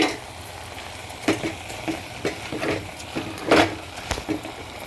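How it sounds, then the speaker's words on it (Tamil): Rice stirred together with turmeric and biryani masala in a pot for a cauliflower biryani, giving scattered scraping and clinking knocks of spoon against pot at an uneven pace over a soft background hiss. "கொஞ்சம் பிரியாணி மசாலா எல்லாத்தையுமே அரிசியோடு சேர்த்து நல்லா கிண்டிக்கோங்க"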